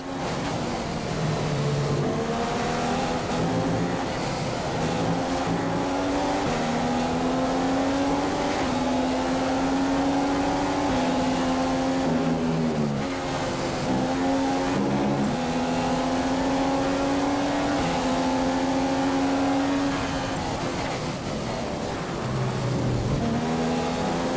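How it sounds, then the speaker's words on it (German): Formula 1 race car engine in F1 2015 during the German Grand Prix, a loud continuous high-revving whine that rises and falls with gear changes and stays in front for the whole stretch. "Du kannst den Motor etwas aufdrehen, wenn du willst."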